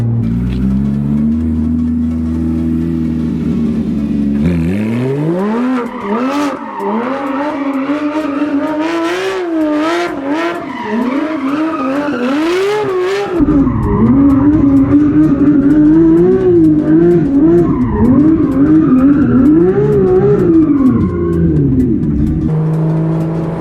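A loud Porsche GT3 RS spins donuts, its engine revving hard and wailing up and down in pitch in repeated surges, tires skidding and squealing throughout, close and continuous.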